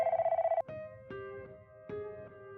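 A telephone bell rings at a military sentry post at night: a rapid trilling burst, then several more rings spaced about half a second apart, heard from a moderate distance in an otherwise quiet setting.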